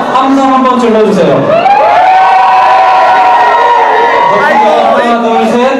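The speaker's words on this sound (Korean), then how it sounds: "다들 함성 한번 질러주세요." A concert crowd shouts and cheers loudly and continuously at an acoustic show with guitar and percussion, with a sustained roar of voices and whoops swelling throughout.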